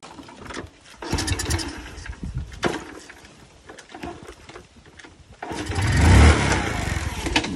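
A small engine, its spark plug having been disconnected, sputters through uneven bursts, then catches and runs loud and rough near the end.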